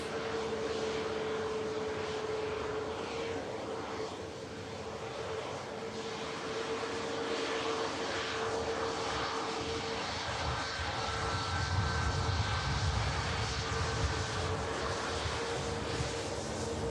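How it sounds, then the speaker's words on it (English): A Ryanair Boeing 737 MAX jet on runway 23 right at Manchester Airport gives a steady, loud engine roar with a whining tone, heard alone for the whole stretch. "Ryanair 737 MAX just vacating, runway 23 right."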